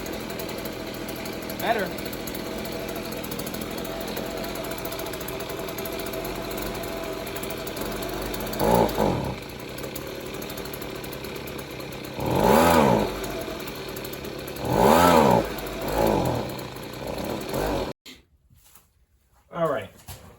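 A free, broken leaf blower runs on choke, its small two-stroke engine buzzing steadily close by. Several rough revving bursts break up the drone before the engine cuts out, and a voice speaks briefly near the end.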